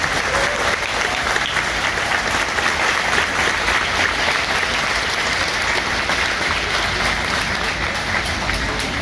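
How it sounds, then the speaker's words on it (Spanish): A large audience at a choral concert in Tijuana gives loud, sustained, dense applause to welcome Dr. Cristian Grases, steady and close throughout with no pause. "Recibamos con un fuerte aplauso el doctor Cristian Grases"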